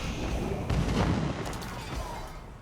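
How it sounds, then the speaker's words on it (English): Trebuchets fire during a siege battle in the video game Age of Empires IV, a couple of heavy booming impacts with rumbling crashes in a dense, continuous battle mix. "And I have those trebuchets dealing splash damage."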